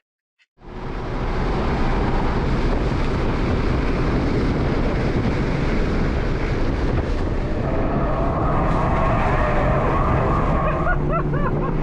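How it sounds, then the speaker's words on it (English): A Hyundai Elantra N is driven hard around the Mosport race track, its engine starting abruptly and then roaring steadily loud with heavy wind rush and rising revs, heard from close by with no talking. "I'm just going to put in some footage of my good friends Tim and Sean absolutely sending this exact car, at Mosport DDT."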